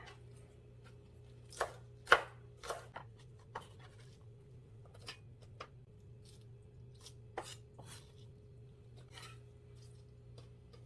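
A knife chops green onions on a board for quick kkakdugi radish kimchi, with a handful of crisp, close taps spaced irregularly over a faint steady hum in an otherwise quiet room.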